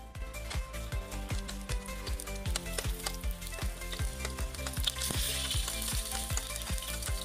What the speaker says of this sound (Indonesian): Selanjutnya kita tuangkan saja bumbu-bumbunya ke dalam minyak yang panas.